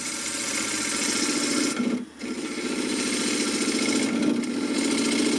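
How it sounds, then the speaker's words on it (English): Sharp gouge cutting a spinning workpiece on a wood lathe, a steady close rasping drone that briefly drops out twice, then resumes at the same even level. "So this here will be what a sharp gouge kind of does."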